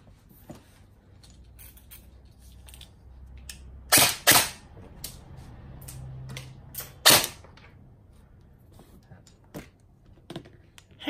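An upgraded A&K M4 airsoft rifle fires during a power test, giving a few sharp, close cracks, two near the middle and one shortly after, among quieter clicks and handling noise.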